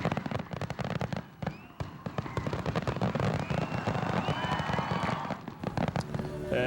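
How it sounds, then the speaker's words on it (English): Fireworks display at night over the Northeast Kingdom in Coventry, Vermont, before the final song of a concert: dense rapid crackling bursts and loud booms, continuous over the whole stretch with faint crowd noise beneath. "a fireworks display lit up the Northeast Kingdom"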